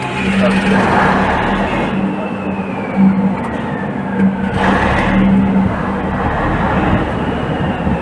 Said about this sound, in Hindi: इंजन स्टार्ट होने के बाद जैसे ही 24 वोल्ट 8 वोल्टेज का अल्टरनेटर स्टार्ट होगा